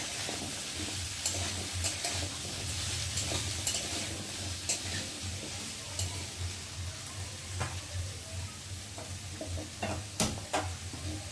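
Mixed vegetables being stirred in a cooking pot, a low bubbling simmer under irregular spatula scrapes and clicks against the metal, fairly quiet and close, with no speech.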